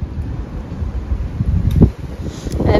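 Strong wind blasts the microphone in a loud, continuous low roar with gusting surges and rustling, no talking.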